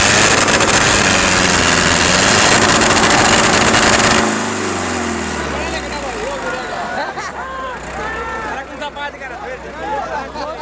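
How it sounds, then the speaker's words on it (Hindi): A Sonalika 750 tractor engine runs loud and close beside other tractors, with a heavy droning roar that drops to a lower chugging rumble partway through as people talk nearby. "सोनालिका 750 की ट्रैक्टर है।"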